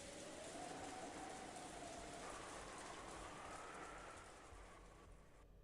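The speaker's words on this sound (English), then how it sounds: "the sound of the wind and rain began to fill the room bit by bit" Wind and rain ambience in the Umineko visual novel forms a soft, steady hiss of rainfall with a faint gusting whistle, quiet and continuous before easing slightly at the end.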